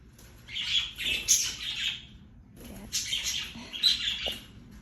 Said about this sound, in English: Please excuse my budgies, they're loud out of nowhere, as they sometimes do.